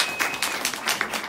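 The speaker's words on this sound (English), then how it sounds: "So let's clap it up for SlutTalk 2018." Brief, moderately faint audience clapping at a live spoken-word event in a Chicago college venue, scattered claps in an uneven patter lasting just over a second.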